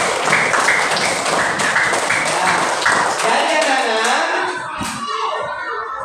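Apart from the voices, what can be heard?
children clapping hands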